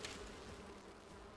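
Bees or hornets buzz faintly and continuously in the survival video game Enshrouded, a low drone with no talk.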